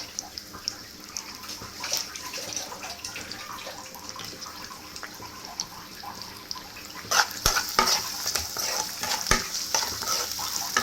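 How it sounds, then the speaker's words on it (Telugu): Onions fry in a pan until brown, giving a steady sizzle with stirring scrapes throughout that grow brighter and busier toward the end. "ఈ ఆనియన్స్ బాగా కొంచెం బ్రౌన్ కలర్లో వచ్చేటట్టు ఫ్రై చేసుకున్నాం"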